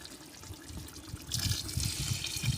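Hot water poured into a clay pot of chicken, a soft trickle that swells into a fuller, bubbling pour partway through, close and fairly quiet.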